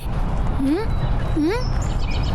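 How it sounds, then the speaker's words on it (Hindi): Parrot calling in a cartoon outdoor scene: two rising, whistle-like squawks about a second apart, fairly loud over a steady background of music and ambience. "वो देखें, बोलने वाला तोता।"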